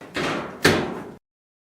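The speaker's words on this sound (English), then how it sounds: "Close the dryer door." A Whirlpool dryer door is shut with a firm close, a soft push followed by a sharper thump, then silence.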